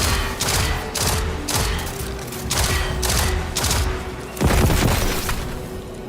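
Gunfire from the video game Destiny 2, a dense run of loud rapid shots in bursts across the whole stretch, heaviest near the end, over a steady game hum with no talk.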